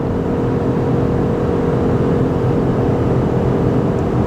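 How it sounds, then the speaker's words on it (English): Ford F150 PowerBoost hybrid pickup towing a heavy load up a steep 6% grade with the throttle held wide open, giving a loud, steady engine drone and cabin roar that holds unbroken throughout. "And this is wide open throttle."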